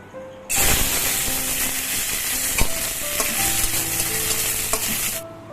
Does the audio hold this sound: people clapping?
no